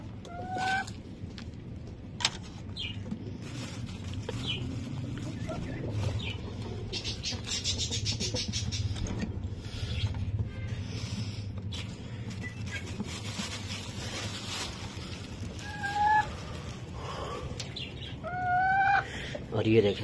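Backyard chickens cluck while pecking at scattered grain feed, with repeated short clucks close by, some louder squawks toward the end, and someone talking over them.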